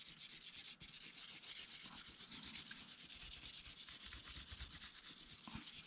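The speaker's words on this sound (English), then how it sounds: "I'm going to use the vine charcoal. I'm going to go over the whole thing so I could get like a gray fill in for everything" Vine charcoal rubbed lightly and evenly across drawing paper to lay a gray tone over a toned drawing, a steady soft scratchy rubbing that continues throughout at close range, with no talking.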